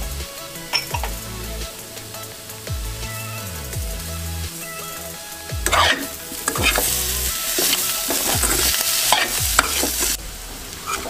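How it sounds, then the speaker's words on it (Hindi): Spiced potatoes roasting in a pan over low gas, with a spoon stirring and scraping the pan in repeated strokes over a steady close sizzle; no voices. "अब हम इसको 5 से 7 मिनट आस्ता गैस पे भूनेंगे।"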